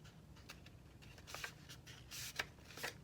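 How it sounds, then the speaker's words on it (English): A half sheet of paper being folded in half by hand, with several short crisp rustles and creases, close and quiet. "Just take your half of sheet, fold it in half."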